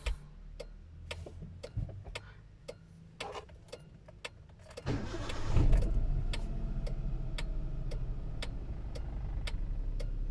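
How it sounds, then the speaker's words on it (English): A Hyundai Eon engine cranks and catches after its throttle position sensor is cleaned, settling into a steady idle, while a regular ticking clicks throughout before and after the start. "Let's go ahead and start the engine."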